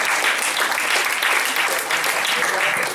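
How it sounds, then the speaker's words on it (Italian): An audience at a talk about a film applauds, a continuous, loud wash of many hands clapping together with no pauses. "se possiamo dedicargli un applauso"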